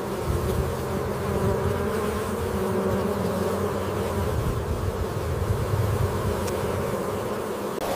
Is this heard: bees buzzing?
yes